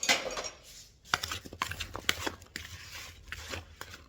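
A spoon mixes cumin, salt, Kashmiri red chilli and fennel into a homemade beetroot pickle, making close, irregular metallic scrapes and clinks against the container, with no talking.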